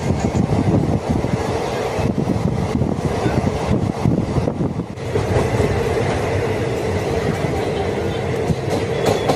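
A passenger train on the Tiruchirappalli to Thiruvananthapuram route near Madurai, running toward the Vaigai railway bridge: a loud, continuous close rumble with rattling and wind buffeting throughout.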